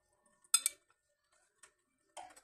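A spoon mixes yogurt with salt and cumin in a bowl, giving a few sparse, quiet metallic clinks and taps separated by silence.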